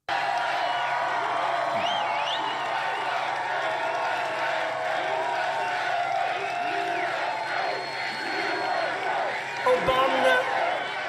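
A rally crowd at a Donald Trump event in North Carolina keeps up a dense, steady roar of cheering and shouting, with scattered whoops rising above the wash throughout and a slight swell near the end.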